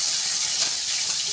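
Chopped garlic hitting hot oil in a frying pan while tuna and vegetables cook, giving a steady, close hiss of sizzling that holds evenly throughout.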